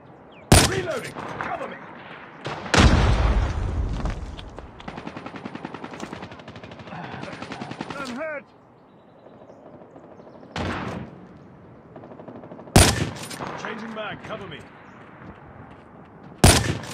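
Loud automatic gunfire bursts from Call of Duty Mobile gameplay, long rapid volleys separated by short gaps, with sharp single shots and game voice callouts mixed in.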